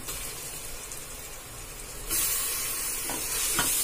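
Ginger garlic paste hitting hot oil with softened onions for a fish biryani, a steady close sizzle that swells louder partway through as the paste goes in, with occasional stirring scrapes.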